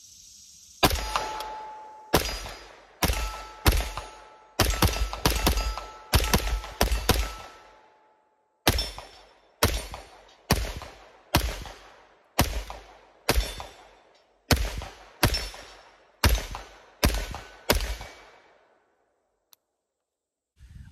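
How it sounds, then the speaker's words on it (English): Brigade BMF9 9mm pistol fired at a range in a long string of sharp, loud cracks with ringing metallic tails, spaced in quick irregular bursts with a short pause midway, no talking. "So we're gonna throw some mags in it and we're gonna shoot a little bit."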